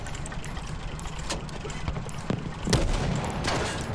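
Gunfire in the Battlefield V shooter game, with rapid bursts and scattered single shots crackling over a steady rumble, a heavier cluster of shots toward the end, mid-distance and fairly loud.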